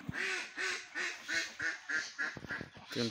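Ducks quack repeatedly on a foggy duck farm, a close, steady series of about eight nasal calls in quick rhythm, loud and clear with no talking.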